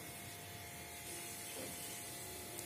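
Fennel seeds and whole spices such as cinnamon and cloves sizzling in hot oil in a pan for tomato gravy, a steady bright hiss and crackle heard alone.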